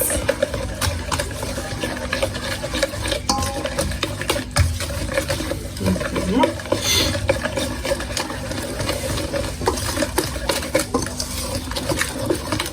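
A hand whisk beats mouskoutchou sponge cake batter with flour in a bowl, a fast, continuous patter of light clicks and wet tapping close by, with no speech.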